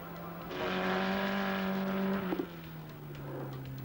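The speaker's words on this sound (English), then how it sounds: "car number 53, which is the Mammoth 21/24B, driven by Stephen Wilkinson, who's showing the car with Peter Harper" A vintage Mammoth 21/24B sports car passes at Donington Park, its engine rising to a loud, steady drone for about two seconds, then dropping away abruptly to a lower, fading hum.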